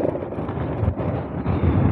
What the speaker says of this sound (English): It's just mega, mega windy.